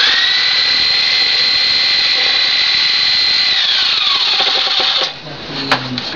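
A Sawzall reciprocating saw cuts excess wood off a rustic bed frame, a loud, steady high whine running for about five seconds before winding down, followed by a brief clatter.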